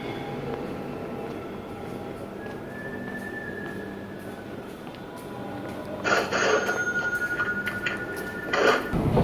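A metro train in a deserted subway station in Kolkata gives a steady low rumble, then grows louder with bright screeching and squealing tones toward the end as it moves through the station.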